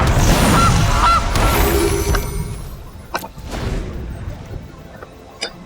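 Goose honks from the Castle Goose card in the MTG Arena video game, a loud burst of game sound effects followed by several sharp, separate honks.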